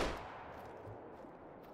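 A rifle shot fired while hunting plains bison in the video game Call of the Wild, one sharp blast at the start followed by a long, loud ringing decay, with no talk over it.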